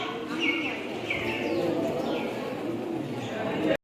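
Pigeons coo repeatedly inside the old stone Adi Kadi stepwell at Uparkot fort in Junagadh, the soft calls moderately close and echoing over a steady ambient background.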